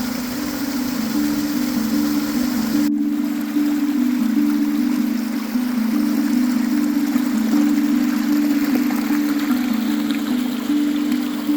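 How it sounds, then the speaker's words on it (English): A creek flows down the bottom of a steep canyon, giving a steady rushing wash with a constant low tone throughout; a sharp click comes near the start, and the water stays loud and continuous with no voices. "you can see this big slope coming down where the creek is"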